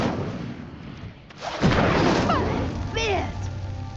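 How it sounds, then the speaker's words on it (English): In Hogwarts Legacy, an Incendio fire spell ignites a pyre with a sudden whooshing burst that turns into a loud, sustained roar of flames, with game sound effects layered over it. "The flames make the pyre sink."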